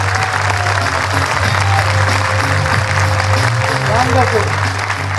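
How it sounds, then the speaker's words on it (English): Indian audience applauding at a car promotion event, a dense loud wash of clapping throughout with a steady low hum beneath and a voice speaking over it. "big round of applause to yourself"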